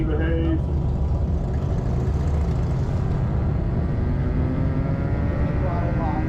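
A custom-built electric motorcycle spins up on a dynamometer at Daytona Bike Week 2024, a steady loud whine with rising tonal harmonics over constant roller and crowd noise, continuous throughout.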